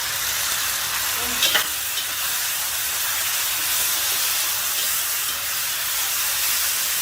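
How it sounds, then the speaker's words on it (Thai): Sesbania flowers tossed with oyster sauce in a wok over high heat, giving a loud continuous hiss and sizzle close up, with one brief scrape early on. "เสร็จปั๊บให้เพื่อนใส่ดอกแครลงไปค่ะ ตามด้วยน้ำซอสนะคะ ที่ผสมไว้ค่ะ ใส่ลงไปเลยค่ะ แล้วผัดเร็วๆเลยนะคะ"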